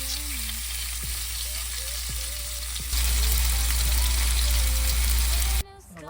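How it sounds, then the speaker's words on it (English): Food fries in canola oil in a pan inside an RV kitchen, a loud continuous sizzle that grows stronger partway through before cutting off abruptly, with a person talking over it. "Y'all heard that sizzle, family?"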